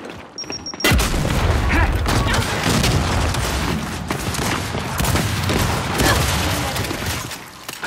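A frag grenade explodes in Gears 5 with a sudden loud boom, and dense, sustained battle noise and gunfire keep roaring close by for several seconds afterward.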